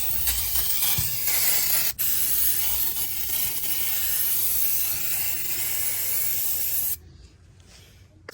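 Aerosol can of brake cleaner sprayed in a steady, loud continuous hiss for about seven seconds during transmission rear seal work on a Scion tC, with a brief break near the start before it cuts off.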